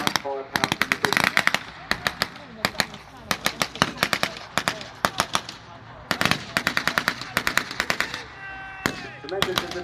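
Rapid bursts of blank-fire gunfire from a WW2 North Africa battle re-enactment, with machine-gun rattles and rifle shots in dense, loud volleys broken by short gaps, while a voice talks underneath.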